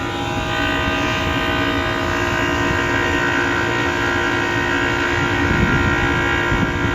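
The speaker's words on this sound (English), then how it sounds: "Compressor don't exactly sound good." A walk-in freezer compressor with a clogged filter drier runs with a rough, loud, steady mechanical hum and droning tones, close by, with no talking.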